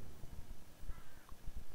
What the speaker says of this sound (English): another one being mobbed by two crows